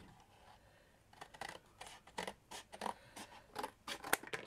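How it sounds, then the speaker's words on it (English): Scissors snip through craft material for a miniature library tower diorama, a quiet run of a dozen or so crisp, close cuts in an uneven rhythm with no talking. "so I'm going to cut that"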